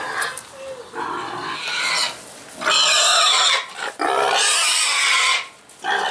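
A hungry pig, almost a year old, grunts and snorts loudly on a farm in repeated bursts, close to the microphone.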